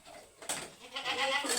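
Goats on a farm bleating: a nearby goat's wavering bleat rises after a quiet start, followed by a longer, louder quavering call, heard alone without talk.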